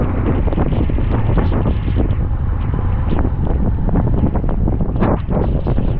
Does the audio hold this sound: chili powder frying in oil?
no